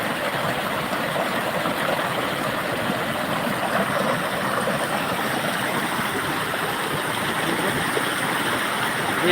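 Swollen water from a heavy night of rain pours and churns in a constant, full rushing roar, close and unbroken, with no talking.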